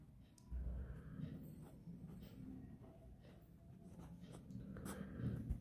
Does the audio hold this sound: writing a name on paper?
yes